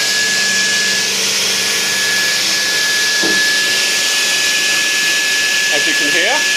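Knapp ProfiT 410 woodworking saw running, a steady loud motor whine with a sustained high tone, brief thumps and rising pitch sweeps near the end.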